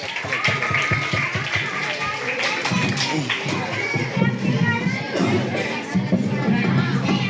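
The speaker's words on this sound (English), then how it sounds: "Claps." Clapping from an audience at a school freedom-fighter roleplay, dense and continuous with a busy, slightly uneven texture, mixed with crowd noise and children's voices.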